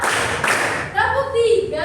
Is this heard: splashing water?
no